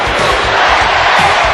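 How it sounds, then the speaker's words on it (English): A large arena crowd in a wrestling video game roars and chants "USA" in rhythmic bursts, loud and continuous, with a few thuds underneath. "The fans chanting USA."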